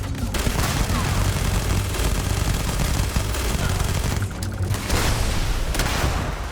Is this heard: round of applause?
no